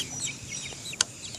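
Chickens being fed cluck and chirp softly and close by in a farmyard, with one sharp short squawk partway through.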